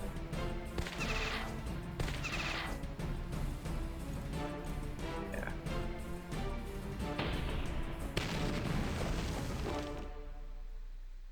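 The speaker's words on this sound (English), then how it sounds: "Throw our grenade at him" In the strategy game Battle Nations a grenade is thrown and bursts, with several sharp smashing impacts and blasts scattered over game music and effects.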